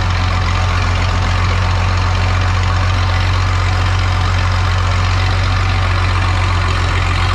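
A Dashing Red 1850 tractor idles without a muffler, giving a loud, steady, low rumbling drone that runs unbroken and close throughout, with no talking.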